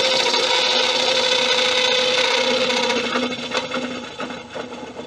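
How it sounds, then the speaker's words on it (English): A lathe gouge makes a bevel cut across a spinning tamarind wood bowl, giving a steady, loud, close scraping hiss that runs continuously and eases off slightly near the end. "And I've got a complete bevel cut there."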